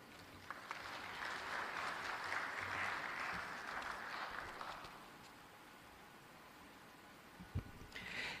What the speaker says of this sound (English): Can we please extend another round of applause